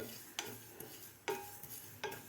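Sesame seeds dry-roasting in a pan, stirred with a spatula: three quiet scraping strokes with light rattling between them, close and faint, with no voices.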